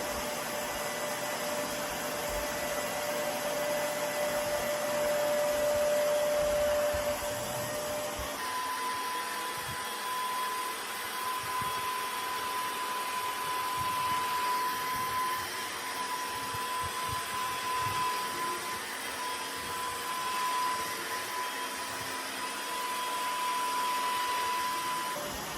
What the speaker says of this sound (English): gonna go slow at first so I can give it a chance to put the solution down and suck it up